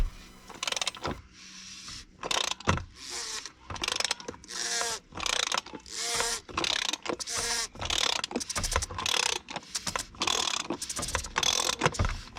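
Ratchet on a socket and extension undoing the oil filter housing of a VW Transporter, clicking in repeated uneven bursts of quick ratcheting strokes, close but fairly quiet.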